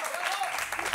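A television studio audience applauds a guest in a brief, thick burst of clapping, with a voice speaking over it.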